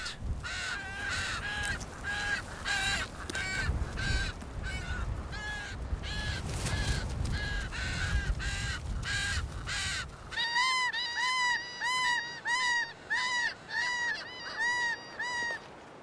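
Striated caracaras (Johnny Rooks) call repeatedly in loud, harsh, crow-like caws, with a dense, overlapping chorus followed by a steady series of clear, evenly spaced raspy calls close by.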